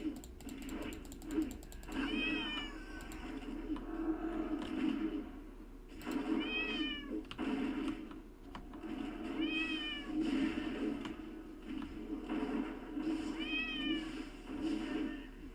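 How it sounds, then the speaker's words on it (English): A cat meows four times in World of Warcraft at fairly regular intervals over a constant low background drone, with faint clicking like keys in between. "I gotta turn that meowing down. I guess that's the sound effects."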